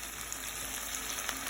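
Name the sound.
chicken browning in a pan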